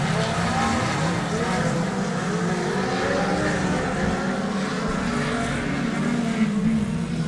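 Midget race cars roaring around a track, engines rising and falling in pitch as several cars pass close together, with a commentator talking over the steady racing noise.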